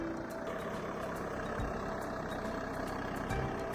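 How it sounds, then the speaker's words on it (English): Forestry forwarder with a 210 horsepower engine and hydraulic crane, working in snowy, slippery conditions; a low, continuous engine rumble holds steady throughout, moderately distant and fairly faint, with no voices. "Forestry forwarder with engine 210 horsepower, load 1416 tons using a hydraulic crane"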